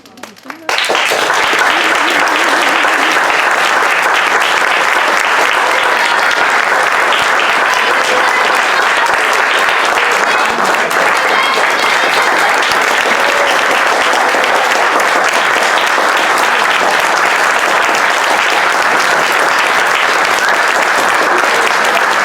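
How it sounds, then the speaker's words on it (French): Loud, sustained audience applause at a live comedy show, a dense continuous roar of clapping that starts abruptly and holds steady at full strength for over twenty seconds. "J'aimerais bien que l'on m'applaudisse."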